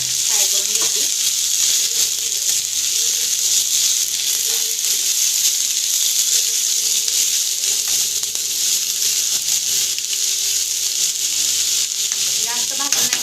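Chillies and mixed vegetables fry lightly in a pan for masala Maggi, producing a steady close sizzle throughout with faint stirring scrapes and a few soft clinks.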